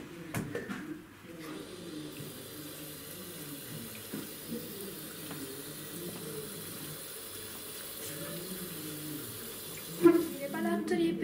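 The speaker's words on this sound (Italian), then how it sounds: "riempiamo la pentola d'acqua" Steady running water from a tap pouring into a pot for sterilizing jars, a constant hollow splashing with a voice briefly at the start and a clunk near the end.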